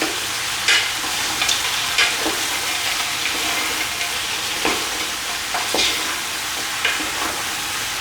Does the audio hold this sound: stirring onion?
yes